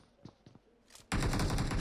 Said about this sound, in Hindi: शॉट्स साइड लाइन से आए थोड़े से।